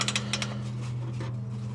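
Ratchet clicks from tightening the bolts on an ARM Motorsport downpipe during a car install: a few quick sharp clicks near the start, then softer ratcheting, set against a steady low hum close by.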